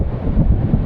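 Heavy wind on the North Devon coast at Hartland Point buffets a microphone in low, rumbling gusts, loud and continuous, with no voices.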